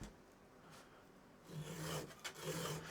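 A file rasps against a chainsaw chain tooth while sharpening it, starting quiet and then giving several close, scratchy strokes in the second half.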